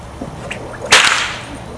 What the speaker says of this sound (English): I'm going to pop this whip. It's going to be loud for the little ones